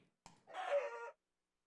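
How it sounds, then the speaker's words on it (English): In the Minecraft Skybounds modpack, a chicken's hurt cluck follows a sharp hit sound as the bird is killed, one brief close squawk in an otherwise quiet moment. "I killed the chickens"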